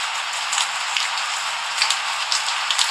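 Steady rain falls outside a house in pitch-black darkness at night, a dense even patter with occasional louder drops striking a surface nearby, and no voices.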